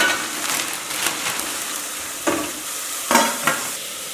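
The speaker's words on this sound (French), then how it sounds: "on va commencer par faire revenir les oignons avec de l'huile d'olive" Onions sauté in olive oil with a steady soft sizzle, broken by a few louder scraping stirs of a utensil in the pan; no voices.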